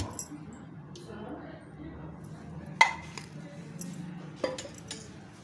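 A metal spoon clinks a few times against a kadhai on a gas stove while oil is poured in, with sharp, sparse taps over a low kitchen background.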